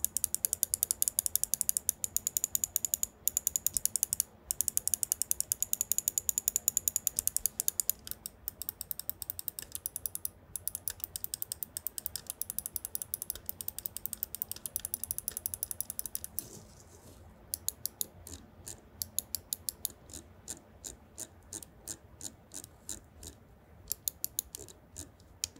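Finalmouse Starlight-12 magnesium gaming mouse being clicked and scrolled up close: rapid, crisp clicks and ratcheting scroll-wheel ticks in dense bursts, then sparser, spaced clicks toward the end, with no talking.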